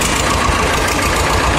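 An Escort 325 25 HP diesel tractor engine runs at a steady idle, a loud, close, even knocking rumble with no break.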